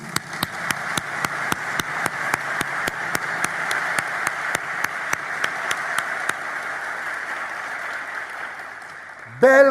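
Audience at a graduation ceremony claps in a slow, evenly spaced rhythm of sharp beats that fades after about six seconds, with a voice breaking in briefly at the very end.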